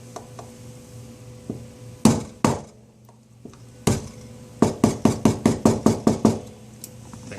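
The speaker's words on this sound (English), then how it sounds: "your trusty assistant will have the 1/8 inch dowel pin and the hammer, and they will then knock it into place." A hammer knocks a 1/8 inch dowel pin into the trigger of a Sig Sauer P238/P938 or Colt Mustang pistol: a few spaced taps, then a quick run of about eight sharp metallic knocks, close and clear.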